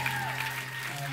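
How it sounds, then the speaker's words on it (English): A live club crowd at a Movements show at Chain Reaction claps for the bands, a short burst of applause with a voice talking over it. "Everybody, please give a huge round of applause for all the bands that played tonight."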